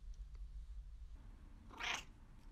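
A cat lets out a single short meow near the end, fairly close, after a stretch of quiet low room rumble.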